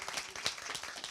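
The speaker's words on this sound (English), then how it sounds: "go ahead and clap it up for our next artist, Mr. Charles McMurray." An open mic crowd claps for the next artist, a short, steady burst of many hands applauding fairly close with scattered sharper claps.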